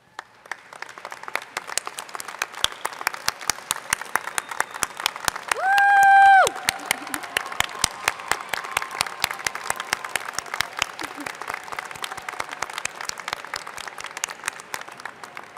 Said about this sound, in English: stand up so us graduates can for once clap for you